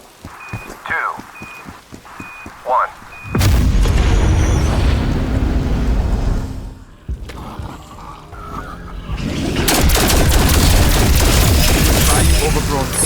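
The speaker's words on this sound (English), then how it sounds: "Locking target. Initiating firing sequence." A weapon fires in a Call of Duty Zombies cutscene: a few short electronic beeps count down, then a loud, sustained explosive boom and rumble that briefly dips before surging again.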